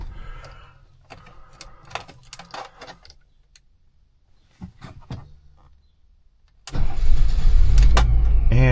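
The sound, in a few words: 1980 BMW 528i engine starting and running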